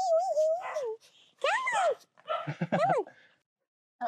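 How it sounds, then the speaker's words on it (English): Puppies rescued on Bali give high whimpers and yips in a few short bursts, close by, with excited voices mixed in among the cries. "Oh my God, so many puppies!"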